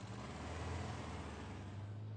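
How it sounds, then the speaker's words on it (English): A dune buggy engine on the Oregon sand dunes idles in a low, steady rumble, faint and even throughout the short stretch. "It's the sound of a buggy starting up."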